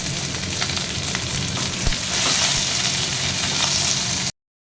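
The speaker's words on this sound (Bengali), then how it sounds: "দেখো এদিকে ভাজা হচ্ছে" Garlic cloves and peanuts fry in oil, giving a close, steady crackling sizzle with occasional stirring pops, then cutting off abruptly near the end.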